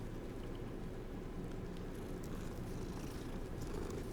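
A cat purrs in Hogwarts Legacy, a soft continuous low rumble held steady at an even level throughout, with no voices over it.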